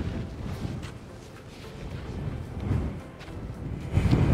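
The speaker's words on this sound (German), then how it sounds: "obwohl noch immer so viel Wind ist." Strong wind by the sea on the Dutch coast at Westenschouwen in winter, buffeting the microphone with gusty low rumbles that swell and ease, with faint surf-like hiss underneath.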